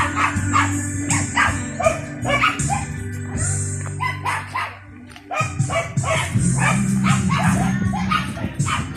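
Several dogs bark and yip repeatedly at a resort, some whimpering, fairly close and loud, with a low hum and faint background chatter.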